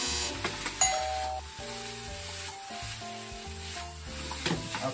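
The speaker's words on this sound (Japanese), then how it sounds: "最後にね、醤油をね、一回しします" Soy sauce poured around a hot pan sizzles with a steady hiss, partly masked by louder melodic background music with chime-like tones.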